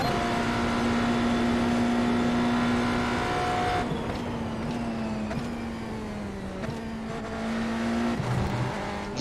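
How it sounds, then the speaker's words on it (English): A race car engine in a NASCAR racing video game drones steadily and loudly, holding a tonal hum that shifts pitch a few times as the car sits and creeps forward, with no talking. "Engine's a little on the loud side"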